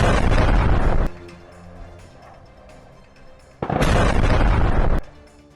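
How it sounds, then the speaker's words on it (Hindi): Two long, loud roaring blasts from a missile strike on a power station in Odesa, each lasting a few seconds, separated by a quieter stretch of low rumble. "यहां पर मिसाइल हमला हुआ है। रूस ने ब्लैक सी से दागी है मिसाइल।"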